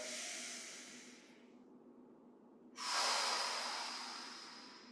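Powerful breaths during a Yi Jin Jing qigong exercise: a loud hissing breath that fades out, a brief pause, then a second sharper forceful exhale that trails off, close and alone.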